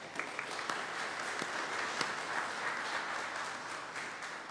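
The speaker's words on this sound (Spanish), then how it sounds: "Aplaudimos a ella porque..." A church congregation applauds at a Sunday Mass for a woman marking 18 years of service, a moderate, steady patter of many hands clapping throughout with no talk over it.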